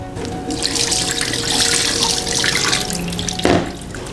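Running tap water splashes steadily over raw chicken being rinsed in a sink, a close, continuous gush with a louder splash near the end.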